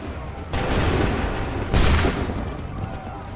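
Soldiers fire a musket volley in Assassin's Creed 3, two heavy broadband bursts of gunfire landing close together, each followed by a lingering rumble.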